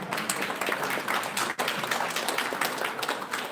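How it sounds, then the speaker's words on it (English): Audience applause at an international conference, a dense, steady wash of many hands clapping together for a few seconds, moderately loud and fairly close. "Big round of applause one more time"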